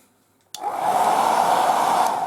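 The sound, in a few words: air dryer blowing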